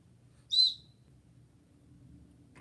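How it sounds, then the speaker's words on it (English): A small 1928 vintage safety whistle gives one short, shrill, high-pitched blast that dies away quickly, with quiet room noise before and after. "as a safety whistle"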